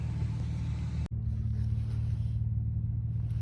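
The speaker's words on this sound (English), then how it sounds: "The car's been idling for over 20 minutes." A car engine idles steadily after running for over 20 minutes, a low constant rumble with one brief dropout near the start, no voices.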